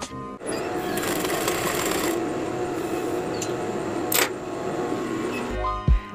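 A sewing machine runs steadily, stitching horsehair braid onto a wedding veil, its close, continuous mechanical whir broken by a brief click near the end before stopping.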